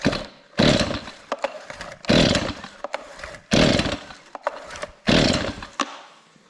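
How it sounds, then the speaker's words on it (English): A Stihl MS251C chainsaw with an easy-start system and a melted clutch is pulled over and fires in five loud, close bursts, each snarling briefly before dying, with short quiet gaps and small knocks between attempts. "So we'll try firing it up and see what happens."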